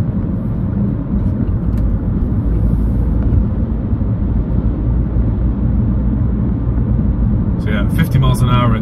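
A 2010 Skoda Yeti 1.2 TSI cruising in sixth gear at about 50 mph, a steady low engine and road rumble droning evenly throughout from inside the cabin, with a brief burst of voices near the end.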